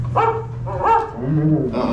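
A dog barks in the Carousel of Progress revolving theater show at Walt Disney World: a couple of short, close yips and whimpering barks, clear and prominent, with no talking over them.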